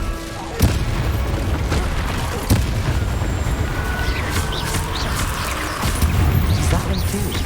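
Fire spell cast amid continuous dense battle noise in the Hogwarts Legacy video game, with repeated booming impacts and crackling bursts throughout, loud and close.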